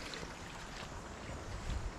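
Jungle streams or waterfalls flow with a steady, continuous rushing wash that holds an even, moderate level throughout, with no voices.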